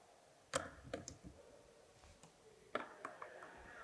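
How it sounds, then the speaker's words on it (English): A few faint, sharp mechanical clicks from a skateboard truck at irregular intervals, heard up close against a quiet background. "You can hear this clicking noise."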